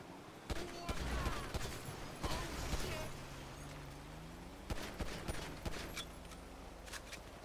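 Gunfire in the video game GTA V: a few sharp, scattered shots and bursts spread across the stretch over a busy game background of engine hum and rumbling, moderately loud with no talk.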